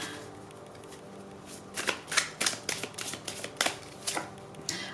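Tarot cards are riffled and shuffled by hand nearby, a run of quick crisp flutters and snaps coming in uneven bursts, fairly quiet with no talking.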